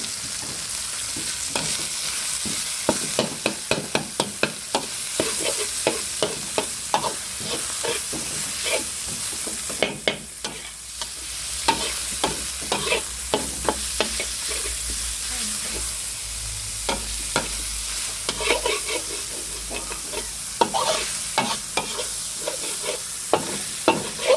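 Minced pork sizzles in a hot pan with chili and garlic for a stir-fried pickled bamboo shoot dish, with steady frying and many sharp spatula scrapes and clicks throughout, close and fairly loud.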